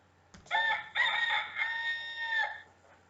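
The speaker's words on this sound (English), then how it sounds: "The rooster is an early bird. Each day at dawn his call is heard." A rooster crows at dawn: one loud, close cock-a-doodle-doo in several sustained, bright syllables, rising to its peak and tapering off over about two seconds, with no other sounds.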